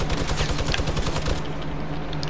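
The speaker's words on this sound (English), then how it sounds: "Are you really using a machine gun?" Rapid, sustained automatic machine-gun fire in the video game Fortnite, loud and close, with a dense stream of shots that runs unbroken for about two seconds before easing slightly.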